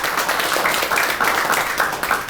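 Audience applause with scattered clapping filling a hall after a speaker shares a personal success story at a Filipino seminar, steady and fairly loud throughout with a faint voice mixed in.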